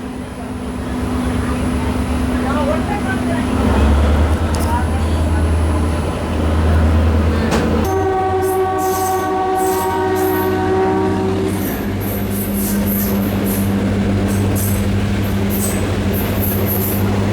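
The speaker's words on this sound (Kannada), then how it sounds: "ಹುಡುಗಿ ರೈಲ್ವೆ ಸ್ಟೇಷನ್ಗೆ ಎಂಟ್ರ್ ಆದ್ರು ನಾವು" DEMU express train on the Solapur–Hosapete route rolling into a small railway station, a loud, continuous rumble with a sustained horn blast midway and steady wheel noise, heard up close throughout.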